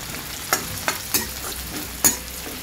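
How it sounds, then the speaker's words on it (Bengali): Onions frying in oil in a pan, a steady close sizzle broken by a few sharp scraping stirs at irregular intervals. "এদিকে পেঁয়াজটা হয়ে গেছে, এই পেঁয়াজ ভাজা হবে"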